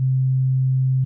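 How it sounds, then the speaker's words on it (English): A single pure, smooth low sine-wave bass tone without effects, held steadily for about a second, then cutting off abruptly. "So it's pretty much just a sine wave."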